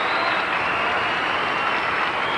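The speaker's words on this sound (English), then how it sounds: "That's kind of a non-committal applause from Phoebe Mills." Crowd applause at a 1987 mixed pairs gymnastics competition after a routine, a steady dense wash of clapping throughout with no clear break.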